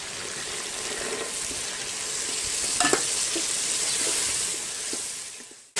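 Peas go into a frying junglee pulao and are stirred, giving a steady close sizzle with a few scraping clicks of the spoon midway.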